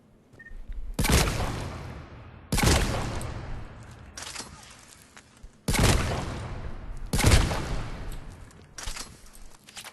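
Wraith shotgun fitted with a level 2 choke, fired in the Mass Effect 3 video game: five heavy, booming blasts at uneven intervals, each followed by a rolling, echoing tail, with no voices.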